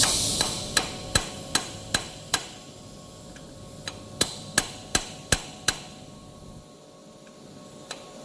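A hammer strikes a bearing on a toilet tissue paper rewinder machine, giving sharp metallic knocks in two quick bursts of about six evenly spaced blows, with a short pause between the bursts and a single faint tap near the end.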